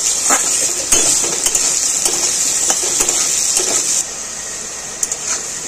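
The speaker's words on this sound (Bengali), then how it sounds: "একটু নুন দিয়ে আলুগুলোকে ভেজে দেবো হালকা করে" Cut potatoes frying in hot oil with a little salt, a continuous bright hissing sizzle with scattered stirring clicks and scrapes, close and steady, dropping slightly in level near the end, no talking.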